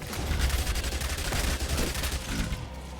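SMG fire in a hectic zombie survival shooter game: dense, rapid bursts of automatic shots roll on almost continuously and loudly, with no talk over them.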